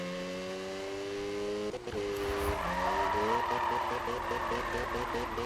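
In a racing video game, a car drifts under braking with a revving engine and a loud, sustained squeal of skidding tyres that swells and holds after a brief break.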